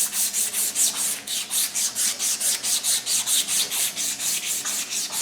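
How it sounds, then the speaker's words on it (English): A hand file rasps back and forth across a metal crank pulley from a 200Tdi engine, about twenty even, rhythmic strokes close up and loud, with no talking. "I'll just give it a quick file."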